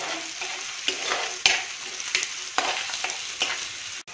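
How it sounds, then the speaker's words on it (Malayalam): Onions, green chillies and garlic sautéing in a pan for a Kerala-style fish curry, a loud continuous sizzle with a few sharp scrapes of stirring. "ഉള്ളിയും പച്ചമുളകും വെളുത്തുള്ളി എല്ലാം ഇങ്ങനെ വഴറ്റിക്കൊണ്ടിരിക്കുക."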